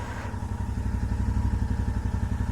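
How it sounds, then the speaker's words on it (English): A Royal Enfield Interceptor 650 motorcycle idles close by, its exhaust thumping in a steady, fast, even rhythm with a low clattering undertone. "You can hear the exhaust. I can hear it, duk duk duk duk duk duk duk duk."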